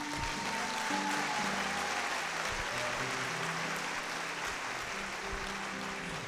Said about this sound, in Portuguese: Você está aplaudindo